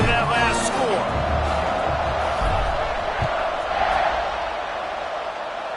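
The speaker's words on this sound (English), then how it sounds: "this crowd is buzzing after that last score" A packed crowd at a Baylor football stadium buzzes with a steady, dense roar just after a touchdown, with a commentator talking over the noise throughout.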